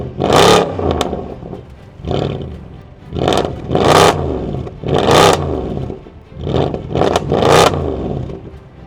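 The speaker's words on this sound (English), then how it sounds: "Guys, we're going to give you a quick sound check on the car." A Mercedes C63 507 Edition V8 revved hard in a series of loud, close blips, each surge rising and falling back to idle, about eight throttle bursts with crackling overrun between them.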